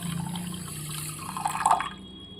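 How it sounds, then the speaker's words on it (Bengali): About a cup of water is poured onto sugar in a pot to make syrup for pantua sweets, a brief, faint splash and trickle that swells near the end before stopping. "ঠিক এক কাপ মতো জল এখানে আমি দিয়ে দিচ্ছি"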